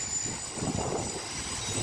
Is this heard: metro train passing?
yes